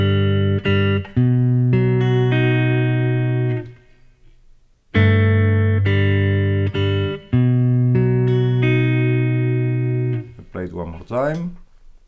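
Electric guitar plays measure 6 of a song as a lesson demonstration, with sustained picked chord notes ringing in two phrases separated by a brief pause, ending on a quick scraping flourish; no talking.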